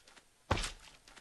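Slime mob in Minecraft squishing once, a short soft thud-like squelch landing at close range with nothing else around it.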